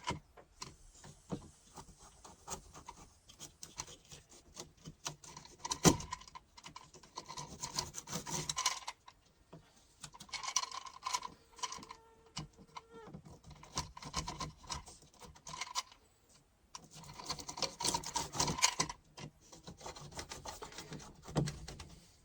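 A spline roller's rounded wheel is pressed along a window screen frame track, giving soft rubbing and rasping strokes in several bursts with short pauses, close and moderately quiet.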